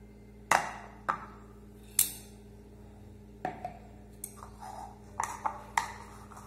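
A spoon clinks and taps against a bowl while fruit salad is mixed with condensed milk, a series of sharp metallic pings at uneven intervals over a quiet, low background hum.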